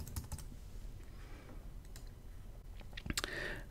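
Rapid, irregular key clicks from typing on a computer keyboard, close by, with bursts of strokes and short pauses and a quicker flurry near the end, and no one talking.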